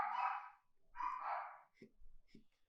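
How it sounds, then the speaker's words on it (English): Dogs barking nearby, two longer barks followed by two short sharp yips, each separated by brief quiet. "Oh, my dogs."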